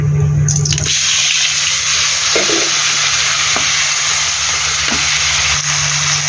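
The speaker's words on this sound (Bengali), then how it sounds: "এই আলুগুলোকে লালচে করে ভেজে নেব" Potatoes fry in hot oil with a dense, steady sizzle that fills the whole stretch, loud and close, with a few faint clinks of a spatula.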